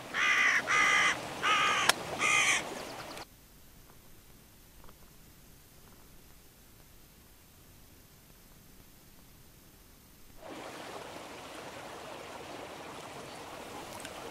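Hooded crows and a magpie call outdoors in a quick burst of loud, harsh caws during the first few seconds. A long stretch of soft, steady hiss like flowing water follows.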